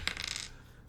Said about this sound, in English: Go ahead and roll d8.